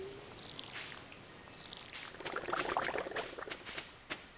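A watering can showers crops in the video game Stardew Valley, making a soft pouring, trickling splash that builds toward the end, quiet and without talking.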